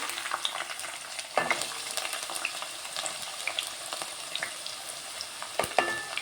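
Onion frying in hot oil in a home kitchen for a potato chicken curry, a soft continuous sizzle with a few stirring clatters, fairly quiet and with no talking.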